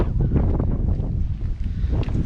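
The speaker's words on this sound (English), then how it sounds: "You guys probably can't hear me with the wind." Strong outdoor wind buffets the microphone throughout, a loud, continuous low rumble with gusty surges near a castle memorial in France.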